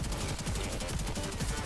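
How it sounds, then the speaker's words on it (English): Warframe's heavy machine gun rattles in a team deathmatch, firing an unbroken stream of rapid shots that stays loud and dense throughout, with no pause. "His gun is like a machine gun, and it starts out shooting slow and it keeps going faster"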